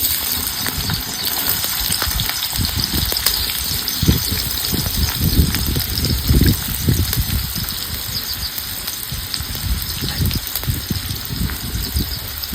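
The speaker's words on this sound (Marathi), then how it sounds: "आता ह्या गरम तेल मध्ये आपल्याला एका नाही कांदा चांगला भाजून घ्यायचा आहे" Onion frying in hot oil in a wok gives a continuous close hiss and crackle with occasional louder spatters, heard without any talking.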